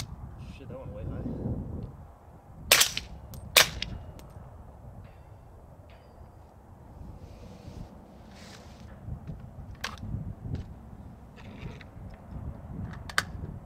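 A suppressed 16-inch AR-15 fires 300 Blackout subsonic rounds outdoors at a 400-meter range. Sharp, muffled cracks come singly and spaced apart, with a pair close together early on, over gusty wind noise and low background rumble.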